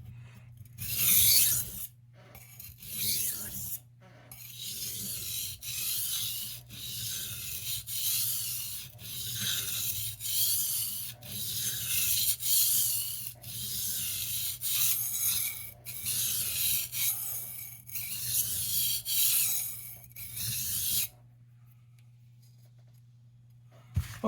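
Steel blade of an 8 inch carving knife being ground on a bevel, a steady rasping rub in repeated strokes with brief pauses, close and fairly loud, no talking.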